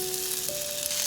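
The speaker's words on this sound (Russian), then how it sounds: "Разогреваем сковороду, выливаем масло." Oil sizzles in a heated frying pan during breakfast egg cooking, a steady close crackling hiss with a faint held tone running beneath it.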